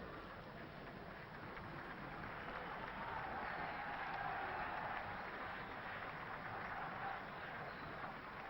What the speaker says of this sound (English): the sporting Leicester crowd rise to their feet in the stands and applaud Manchester United off the field